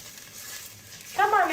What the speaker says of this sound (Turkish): Soğanımız hafif pembeleşinceye kadar güzelce kavuruyoruz